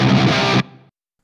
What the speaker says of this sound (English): Let's take a listen to what happened to this guitar tone with the reverb.